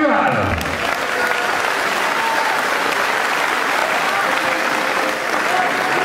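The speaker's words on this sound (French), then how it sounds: "Vous allez applaudir Ludovic Duval." Crowd at a French championship boxing event welcoming a boxer with loud, continuous applause, a dense wash of clapping that stays strong throughout, with an announcer's voice briefly heard at the start.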